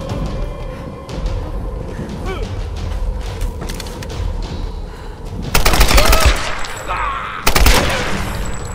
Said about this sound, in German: harten Rückstoß hier, diese Maschinengewehr. Ist eine AK, wenn ich mich nicht irre.